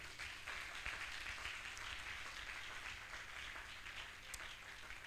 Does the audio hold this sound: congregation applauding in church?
yes